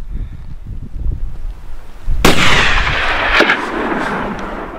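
A hunting rifle fires at chamois in a Turkish frontier mountain setting: one sharp, loud report midway through, then a second fainter crack or echo, over steady wind noise and low rumble.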